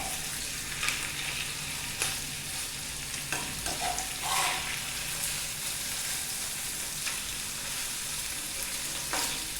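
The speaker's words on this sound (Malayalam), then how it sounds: "കണ്ടില്ലേ നമ്മൾ ലോ ഫ്ലെയിമിലിട്ട് കുക്ക് ചെയ്യുന്നുണ്ട്." Spicy tawa chicken frying on a pan over a low flame: a steady, close sizzle runs throughout, punctuated by occasional sharper crackles and scraping stirs, with no voices.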